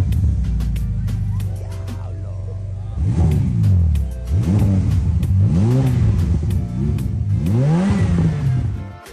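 A purple Ferrari F8 Spider Tributo engine revs repeatedly, with several sharp rises and falls in pitch following a low idle, loud and close.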